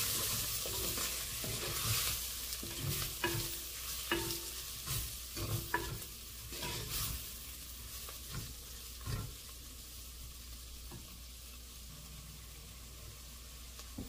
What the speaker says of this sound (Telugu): కొద్దిగా ఫ్రై చేయాలి మసాలాలు.